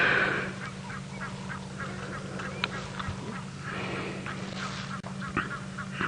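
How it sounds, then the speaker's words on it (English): A goose honks and quacks repeatedly near a herd of elephants on an evening safari drive, the calls fairly close over a low steady engine hum with faint background sounds. "Goose shouting at the one elephant just behind his right back foot"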